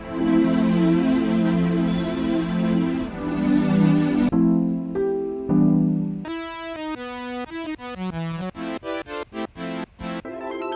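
The Leadr synthesizer plugin plays a bright lead melody, first sustained and layered, then in short choppy staccato notes with sharp gaps between them.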